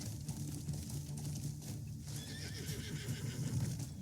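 A horse in a video game whinnies loudly near the start and again later, with clip-clopping hooves running underneath throughout, no talk.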